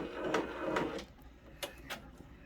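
An OESD embroidery machine stitching a freestanding lace fall floral pumpkin, with quick mechanical whirring runs of stitches and a few sharp clicks, close and moderately loud.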